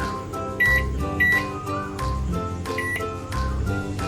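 A microwave oven beeps repeatedly as buttons are pressed to set a 10-minute cooking time, then its steady electrical hum runs underneath the tones.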